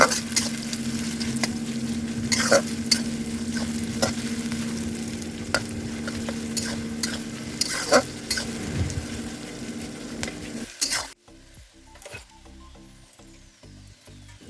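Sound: chopped onions being stirred and fried

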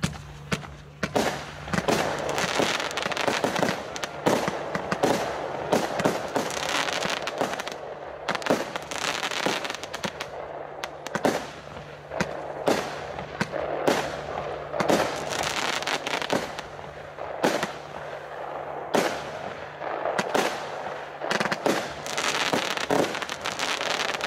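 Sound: Noisemaker 30-shot fireworks battery, 23 mm calibre

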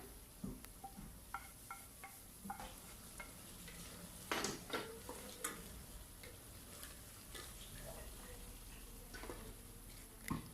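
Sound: stirring mutton curry with garam masala in a pan

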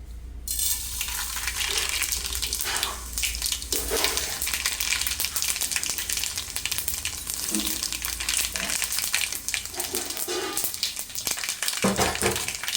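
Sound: tempering spices sizzling in hot oil

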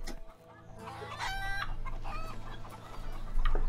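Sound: chickens clucking while being thrown in video game A Way Out

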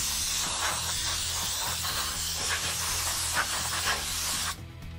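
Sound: air duster blowing dust out of a Technics SU-2300 amplifier

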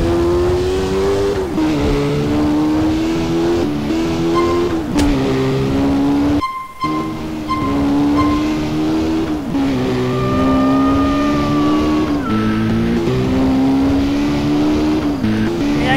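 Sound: car engine revving and tires squealing in video game GTA San Andreas

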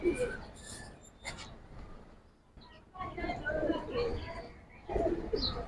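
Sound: pigeons cooing

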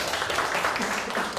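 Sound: audience applause

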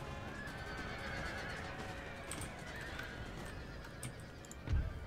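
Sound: cavalry charge with horses in Empire Total War video game

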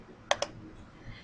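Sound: typing numbers on a computer keyboard

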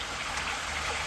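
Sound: water flowing through pond spillway pipe

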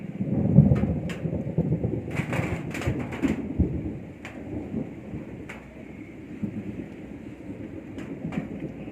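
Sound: thunder and rain

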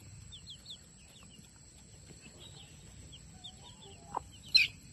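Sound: chicks cheeping

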